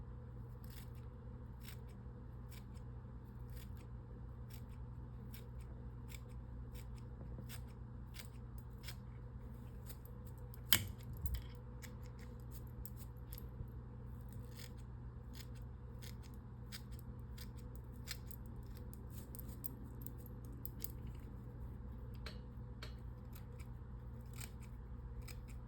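Small scissors snip hair on an 8/0 monster rat fly-tying lure, quick light clicks repeating steadily and close over a low background hum, no talk.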